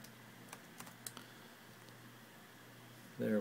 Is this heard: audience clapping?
no